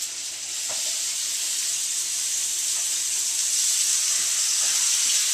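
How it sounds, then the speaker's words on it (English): Tenderloin meat searing in a skillet gives a steady, even hiss that swells slightly over several seconds, heard close with no talk and only faint clicks underneath. "We're going to take our meat, stick it in our skillet"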